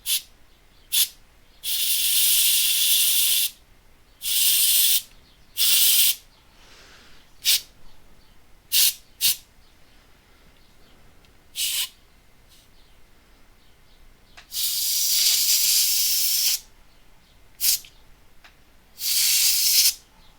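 Compressed air blasting dust out of the fan of a MacBook Pro A1398 in short and longer hissing bursts, some lasting about two seconds, with brief quiet gaps between them, close and bright.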